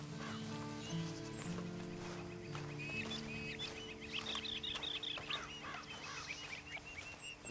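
In the video game Red Dead Online, horse hooves clop steadily over a farmyard backdrop, with chickens clucking and other fowl calling in the background.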